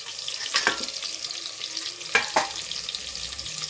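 Whole spices fry in a pan of hot oil for egg biryani, giving a steady close sizzle broken by a couple of sharp clinks of a spoon against the pan, with no talking.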